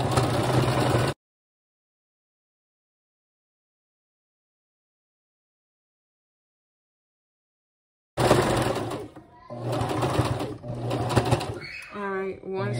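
A sewing machine stitches fringe onto fabric in short bursts, with a long silent gap in the middle and someone talking over the later runs.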